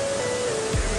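Broadband rushing roar of the third waterfall at Amboli in the Konkan, a steady wash of falling water close by with no voices.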